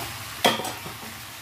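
A potato and eggplant curry in a pan, a quiet sizzle under a single sharp scrape of a spoon stirring through the vegetables, close and brief, with no talk.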